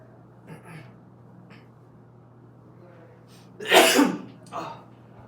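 A single sharp sneeze bursts out loud and close, followed by a smaller aftershock, set against a steady low electrical hum in a quiet classroom-style room.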